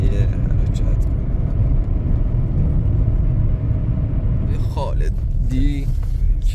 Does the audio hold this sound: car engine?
yes